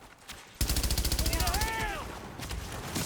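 Rapid automatic gunfire in a video game, a fast burst of loud regular shots followed by a whooshing effect and scattered further shots, with talk underneath.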